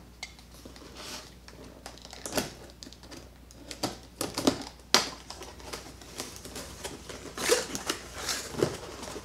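A cardboard box holding a Milwaukee M18 Fuel Quick Lok articulating hedge trimmer attachment is opened, producing close crinkling, tapping and rustling handling noises in irregular bursts without speech.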